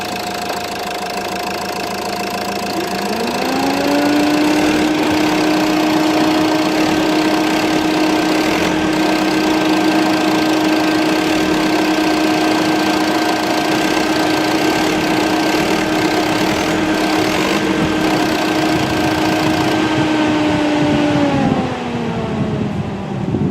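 A diesel Renault Scenic III engine runs steadily, with a droning hum and mechanical knock. The engine pitch rises as load comes on when the clutch is let out in gear against the handbrake, holds for a long stretch, then drops back to idle.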